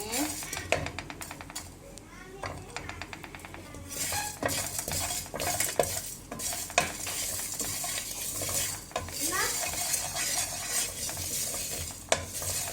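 Ingredients for chicken kebab being stirred and dry-roasted in a pan, with a spoon scraping and clinking against the metal in steady bursts and a faint sizzle underneath, close by, while a voice speaks at times.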